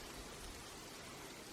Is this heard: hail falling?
yes